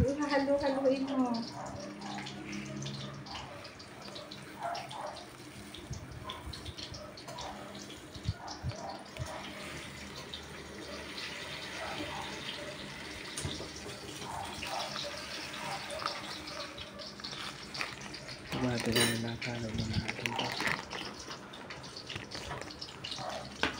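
Liquid soap pouring and sloshing as it is stirred in a container with bubble booster, with people chatting over it throughout.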